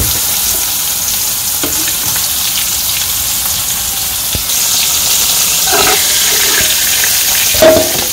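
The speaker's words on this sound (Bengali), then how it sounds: "তো মাছগুলো হালকা ভেজে নিলাম," Fish frying lightly in oil in a pan in a village kitchen, a steady close hiss and crackle of sizzling with a few louder pops and spits, no talking.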